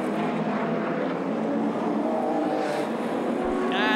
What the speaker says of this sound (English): Lovely shot of the night of the SDI Rover going through